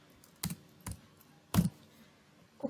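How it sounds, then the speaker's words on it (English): Typing on a computer keyboard while writing a Python program, three or four separate sharp clacks spaced unevenly over a quiet background, close by. "when I just type that print"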